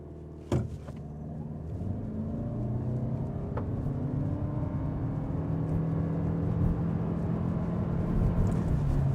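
A 2026 Toyota Camry XSE AWD launches hard from a brake-torqued start, a brief thump followed by engine and road noise that swells steadily and climbs in pitch as the car accelerates, loud and close.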